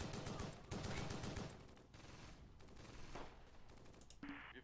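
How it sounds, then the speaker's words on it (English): MG42 machine gun fire in the Close Combat war strategy game, quick rattling bursts early on that thin out into scattered distant shots and rumble, faint overall with a brief sharper noise near the end. "The MG42 is covering..."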